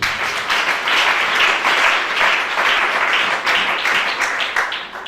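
A congregation at a church service bursts into loud, sustained applause, many hands clapping densely and steadily for the full stretch with a faint murmur of voices underneath.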